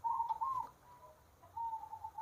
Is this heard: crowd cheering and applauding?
no